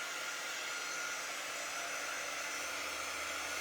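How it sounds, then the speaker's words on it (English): A heat tool blows hot air to dry paste on a beekeeping setup, giving a constant, even whoosh like a hair dryer that runs close and unchanging for the whole stretch, with no voices. "I'm going to go ahead and hit it with my heat tool just so I can dry it up"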